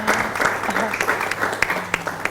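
A short burst of applause, many hands clapping at once, close and fairly loud, with a voice speaking over it.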